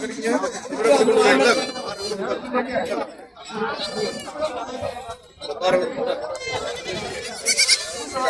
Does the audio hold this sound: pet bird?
no